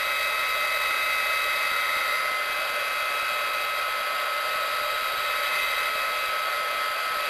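A heat tool melts embossing powder on a card, giving a loud, steady, unbroken whooshing blow like a hair dryer throughout, with no speech.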